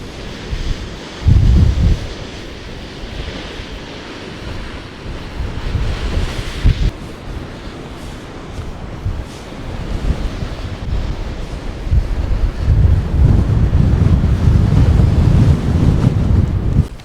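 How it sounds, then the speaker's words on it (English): Strong wind buffets a microphone on the clifftop coast path of Cornwall between Lizard Lighthouse and Kynance Cove, a loud continuous roar with heavy low gusts, and surf churning far below. "It's windy, I don't want to get blown off."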